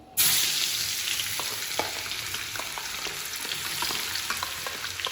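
Green chili and garlic hit hot oil with a sudden loud sizzle, then crackle steadily with scattered pops and faint stirring taps, close up and without voices.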